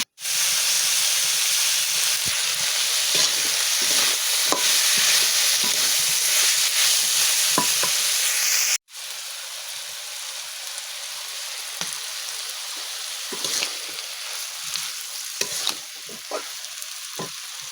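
Spice paste frying in a pot on a stove with fish and tomato curry cooking, a loud, steady sizzle and hiss broken by stirring scrapes, easing to a quieter sizzle halfway through.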